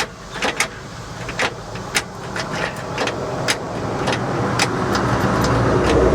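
A 1955 GMC 350 grain truck engine cranks over and over without catching, a rapid, steady churning that grows slightly louder toward the end, heard up close with no talk.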